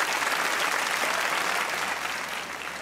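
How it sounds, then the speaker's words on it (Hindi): A studio audience applauds steadily and loudly on a Pakistani comedy talk show, the dense clapping filling the whole moment alone and easing off slightly toward the end. "सबसे बुरा बनाने के लिए तालियां होनी चाहिए जाहिद भाई के लिए"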